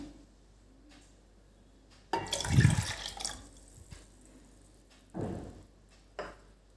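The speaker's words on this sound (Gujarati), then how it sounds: "એક બાઉલ જેટલું આપણે પાણી લઈશું" Water poured from a bowl into sour buttermilk in a cooking pot, one loud splashing pour near the middle followed by a couple of shorter splashes and drips against a quiet background.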